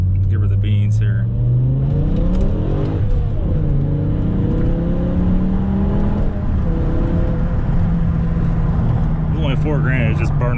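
A BMW E60 M5 launches hard in second gear, its engine roaring loud and close as the revs climb steadily while the tires spin, with people talking over the noise.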